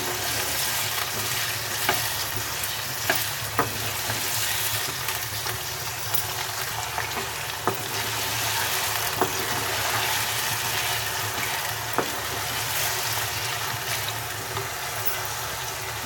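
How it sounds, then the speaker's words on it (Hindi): Potatoes frying in oil for an aloo baingan dish, a steady dense sizzle running throughout with occasional sharp clicks of a spoon stirring, close and alone without talk. "और फ्राई करेंगे इसे 3 मिनट तक। आप इस तरह से फ्राई करेंगे इसे, आलू को"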